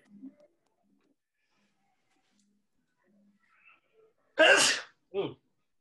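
A loud, close sneeze bursts out alone in a quiet room, followed a moment later by a shorter second sneeze, with faint murmurs before them.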